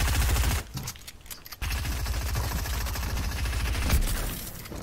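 Rapid automatic gunfire in Fortnite, dense rhythmic bursts close and loud, with a short pause before the firing resumes and continues steadily.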